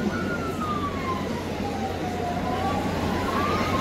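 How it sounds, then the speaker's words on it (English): Police sirens announce the arrival of the Commissioner of Police at Grenada's 50th Anniversary of Independence military parade, a slowly wailing tone rising and falling over heavy outdoor crowd noise. "Ladies and gentlemen, we are hearing the sirens in the background, signaling the arrival of the Commissioner of Police, Mr. Don McKenzie."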